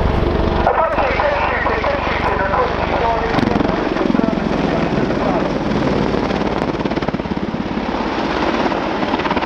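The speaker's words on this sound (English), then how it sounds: "The Apache is climbing back into the overhead to get a better perspective into the target area." An Army Air Corps Apache helicopter climbs overhead at the Dunsfold Wings & Wheels 2014 airshow, its rotor and turbine roar loud and continuous throughout, with a commentator talking over it.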